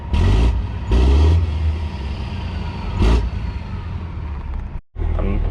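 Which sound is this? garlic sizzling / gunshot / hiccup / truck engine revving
truck engine revving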